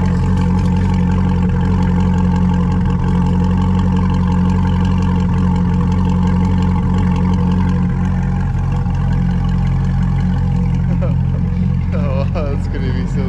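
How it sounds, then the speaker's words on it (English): A 2020 C8 Z51 Corvette's engine idles deep and steady with a low exhaust rumble throughout, loud and close, with a slight rise in pitch near the end. "When it's just sitting here idling, it's actually not too loud. It just kind of rumbles and sounds so good."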